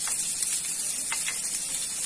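Onions sizzling in hot olive or cooking oil, a steady close frying hiss with brief crackles, alone with no voices.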